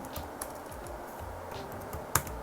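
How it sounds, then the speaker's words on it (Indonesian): Light, irregular clicks of keys on a computer keyboard as a ping command is typed, close and soft, with one sharper, louder key press near the end. "lalu ketikkan perintah ping"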